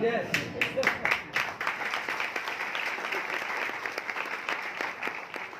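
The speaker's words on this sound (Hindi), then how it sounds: "बजाओ ताली।" Audience applause from a crowd at a live event in Hansi, Haryana, a dense sustained clapping that starts strong and stays steady throughout, with some talk mixed in.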